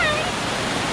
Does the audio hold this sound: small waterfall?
yes